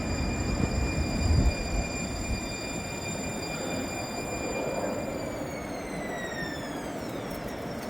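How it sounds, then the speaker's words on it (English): A two-car train of Siemens S700 light rail vehicles pulls away from a street stop, with steady rolling rumble and a whining motor tone that climbs and bends as it accelerates, heard from the platform. "And now leaving Veterans Way and College Avenue was my train, consisting of two Siemens S700 light rail vehicles."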